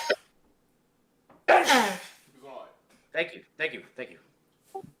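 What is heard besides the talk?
sneeze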